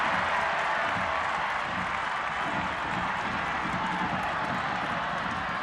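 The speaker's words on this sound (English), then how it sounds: "The crowd imploring Loyal to get moving." A stadium crowd at an extra-time soccer playoff between Rising FC and SD Loyal keeps up a dense, continuous roar of cheering and clapping, loud and unbroken for the whole stretch.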